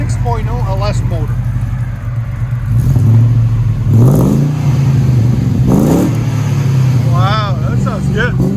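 A 2000 Chevy Tahoe with a cammed 6.0L LS V8, shorty headers and Magnaflow exhaust rumbles loudly nearby, with several sharp rev blips rising over a lumpy idle while people talk.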